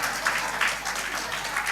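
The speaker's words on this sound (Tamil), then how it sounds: "நல்லா உற்சாகமாக தட்டுங்க" Church birthday-remembrance celebration audience clapping for teachers, a dense steady patter of many hands heard from nearby.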